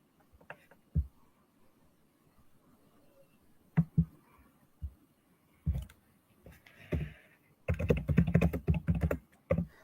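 Fingers type on a computer keyboard, producing scattered single clicks and short bursts of keystrokes, then a dense flurry of rapid typing near the end, close and fairly quiet.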